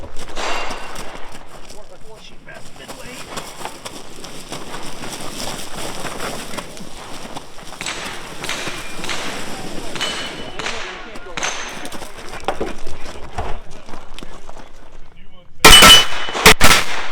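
Gunfire at a two-gun action shooting match, fired off the left shoulder with an HK rifle: a dense stream of sharp cracks and reports across an outdoor range, with a loud close burst near the end.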